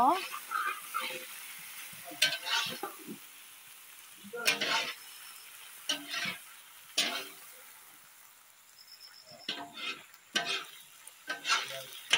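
Duck meat sizzles in a pan between bursts of spatula scraping and stirring, with short quiet gaps between the louder clattering strokes.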